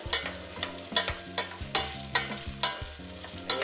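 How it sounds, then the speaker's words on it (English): Smoked sausage fries in vegetable oil in a pot with a soft, continuous sizzle, punctuated by regular scraping stirs and light clinks of a spoon against the pot. "I have a little bit of vegetable oil in here, and I'm just going to go ahead and add the meat, and I'm going to let that cook for a little bit"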